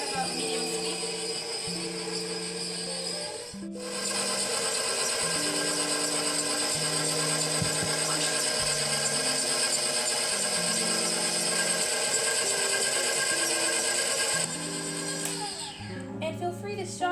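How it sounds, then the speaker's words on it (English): An electric mixer beats lemon butter cookie dough with lemon juice and egg at medium speed, a loud, steady whirring drone that briefly cuts out and restarts near the start and falters again toward the end, with talking over it. "Now I'm just going to start the mixer. And again, at about medium speed."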